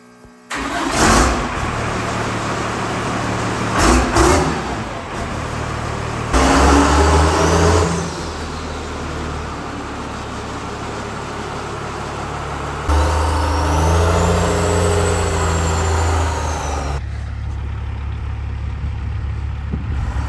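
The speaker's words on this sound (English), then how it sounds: "Holy crap, it shifted gears" An old tow truck's engine revs loudly and steadily, rising and falling through several gear shifts, with a long high whine building partway through, heard close up without talk.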